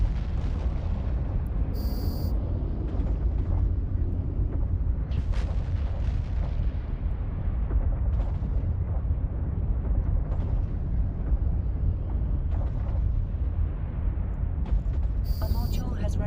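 Continuous barrage of spaceship weapons fire and explosions in the space game EVE Online, a dense rumbling wall of booms and bursts with occasional sharper cracks, sustained loudly throughout with brief high interface tones.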